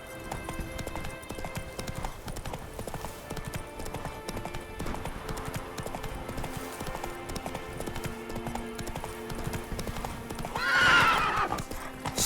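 A horse gallops in The Witcher 3 with steady, rapid hoofbeats throughout, and a loud whinny rises near the end.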